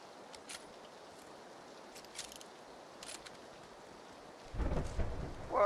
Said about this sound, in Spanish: qué rico, mapa lloviendo